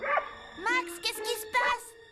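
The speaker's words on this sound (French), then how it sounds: "Lanky, le chien me court après." A dog barks in short bursts while on the chase, three loud close yelps spread across a couple of seconds with faint voices around them.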